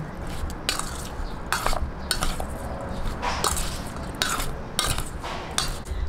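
Tilapia stuffing ingredients being stirred in a bowl, giving repeated scraping, clinking strokes of a utensil against the dish at a steady rhythm, close and fairly loud, with no talking.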